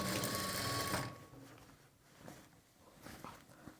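A sewing machine stitches a sleeve onto a garment, a close, fast mechanical whir for about a second that stops, followed by quieter handling and fabric rustles.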